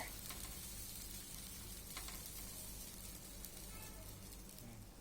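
Multigrain dosa sizzles on a hot pan in a steady, even crackle, close but fairly soft, with no talk.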